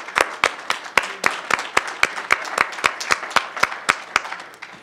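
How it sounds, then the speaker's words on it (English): Audience at a New School lecture on public pensions claps in a small, steady round of distinct, evenly paced hand claps that fade slightly toward the end. "Give him a round of applause."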